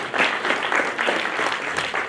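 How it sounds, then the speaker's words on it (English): Audience at a media launch event applauding a presenter, a steady wash of clapping from a room of people, moderately loud and continuous with no voices over it. "Big round of applause for Greg."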